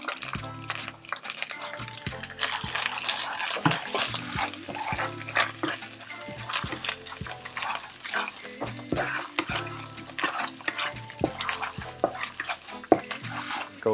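Chili paste frying in oil while a utensil stirs and scrapes the pan for tom yum fried rice, steady sizzle under repeated clinks and scraping against the pan, close and busy throughout, with no talk.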